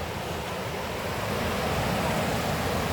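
A waterfall beside a steep walking trail gives a steady, dense rushing roar that stays loud and unbroken throughout, with no speech over it.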